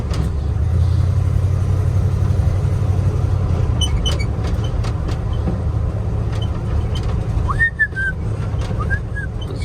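An old Ford crew cab truck drives along with a steady, loud low engine drone and road rumble, and a few brief high squeaks come through near the end.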